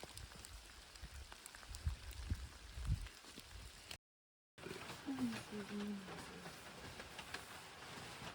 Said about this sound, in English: it's a rainy day. Raindrops falling on my head.